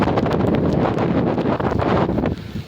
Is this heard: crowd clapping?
no